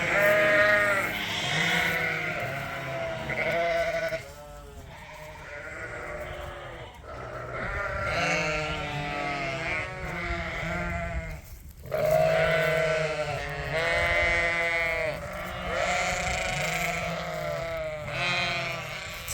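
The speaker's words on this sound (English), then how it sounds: "If the sheep in the barn would stop making" Sheep, Dorsets among them, bleat repeatedly in a barn, several loud overlapping calls following one another across the stretch with brief pauses in between, close and clear.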